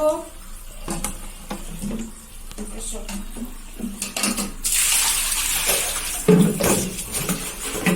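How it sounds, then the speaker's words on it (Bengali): Water pours into a clay pot, first in splashy bursts and then as a louder, steady rushing fill near the end, with someone talking over the early part. "মটকাটা ভরে নিচ্ছি।"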